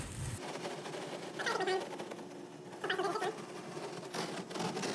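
Styrofoam material being torn off a large foam sign board, heard as a few bursts of rough, crackling ripping noise around a steady background hum, each tear lasting under a second.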